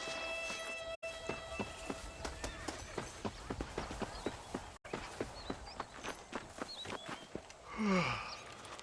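Horse hooves clip-clop at a steady walking rhythm in the Red Dead Redemption video game, a clear, close series of regular hoof strikes over an ambient background, with a brief burst of other game sound near the end.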